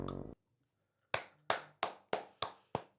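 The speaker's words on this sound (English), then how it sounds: "We'll give him a clap." Hands clap six times in a slightly uneven rhythm after a short burst of sound and a pause, each clap sharp, close and fairly faint, with no talk.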